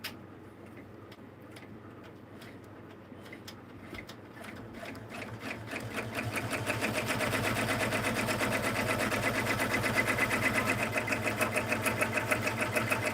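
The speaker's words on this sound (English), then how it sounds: "So now I'm going to stitch the step to tack this down." An embroidery machine stitches a tack-down step on a thick book or device sleeve project filling the whole hoop, running slowly with a steady rapid mechanical ticking that starts softer and grows louder and denser after a few seconds, with no talk.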